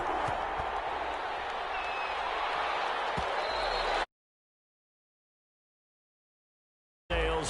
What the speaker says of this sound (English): This crowd is ready as their guys get set to match up between the Philadelphia Eagles and the New Orleans Saints.